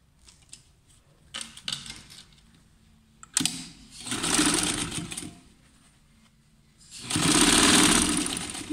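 A sewing machine runs through several stitching bursts on a seam for a jacket with shirt collar and cuffs, rapid even mechanical whirring that starts and stops, the longest run near the end, with soft handling noises between.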